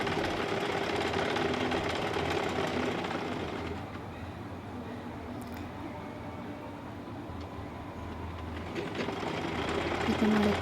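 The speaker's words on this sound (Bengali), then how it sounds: "এখন আরেকটা পাশ সেলাই করে নিচ্ছি।" A sewing machine runs steadily while stitching a second seam on a pillow cover, a continuous mechanical whir with a rattling rhythm that eases off slightly midway and picks up again near the end.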